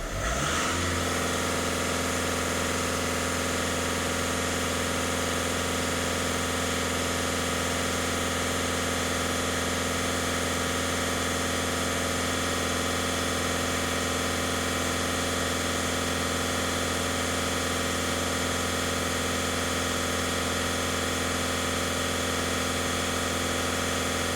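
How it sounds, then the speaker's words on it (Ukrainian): A VW Touran 1.6 TDI diesel engine in the workshop runs at a sustained high, steady pitch after a brief rise at the start, a continuous close drone held without pause. "дивимось на обертах в отсечку"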